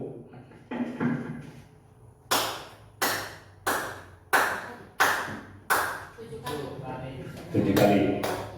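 A group performs a rhythmic clapping pattern in a school setting: seven sharp, evenly spaced claps ring out, preceded and followed by quieter talking voices.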